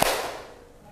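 A class of students claps once in unison as part of a call-and-response clapping game, a single sharp crack that rings briefly in the room and fades.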